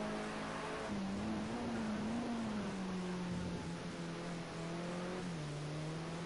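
A BMW touring race car engine drones steadily from onboard during a lap of Zolder, its pitch rising and falling through gear changes under continuous load, loud and close with no talk.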